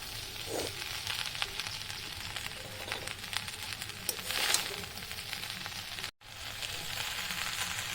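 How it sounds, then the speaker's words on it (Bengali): Fried rice with vegetables and paneer sizzles steadily in a hot pan while being stirred, with scraping and clicking of the spatula and a brief dropout near the end, no talk. "এবার ভেজিটেবিলগুলোকে ভালো করে রাইসের সঙ্গে মিক্সড করব তো এই দেখো মিক্সড করছি ভালো করে নেড়ে নেড়ে চারপাশটা"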